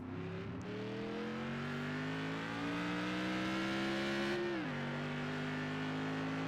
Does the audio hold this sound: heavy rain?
no